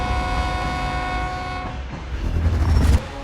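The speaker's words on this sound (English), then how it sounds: "we've actually implemented some new Class 66 sounds in" A Class 66 diesel locomotive in Train Sim World 3 rumbles loudly with a steady engine drone, then comes a harsher, heavier roar of rolling and rail noise, with no voices.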